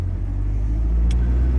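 A 1976 Alfa Romeo with a new, tight clutch pulling away, its engine a steady low rumble that swells slightly as it drives off, with no talk.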